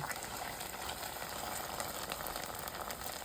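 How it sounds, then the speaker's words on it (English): Boiling lolly syrup stirred in a pot, a steady close bubbling, sizzling hiss running evenly with no voices. "now I'm going to stir this up"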